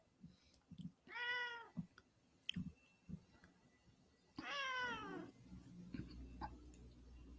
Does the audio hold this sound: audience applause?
no